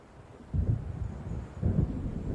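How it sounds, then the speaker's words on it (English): Low rumbling thunder of an approaching storm in the video game Alan Wake, two rolling swells about a second apart over a steady windy backdrop, moderately loud with no voices. "It seems there's a storm coming."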